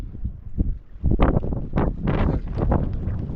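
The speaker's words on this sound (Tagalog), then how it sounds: "Pero malakas ang hangin" Strong wind buffets the microphone in heavy rumbling gusts, loud and close throughout.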